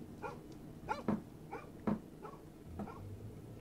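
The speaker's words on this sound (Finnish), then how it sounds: "Siellä oli koira." A dog in a home-alone video game where someone breaks into the house barks about half a dozen short, sharp times at a moderate distance over a low ambient hum, with no talking.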